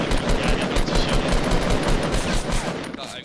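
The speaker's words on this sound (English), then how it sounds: "Yeah, I'm going to shoot him." Rapid automatic gunfire in Fortnite, a dense, continuous burst of loud overlapping shots with no pauses and no voices.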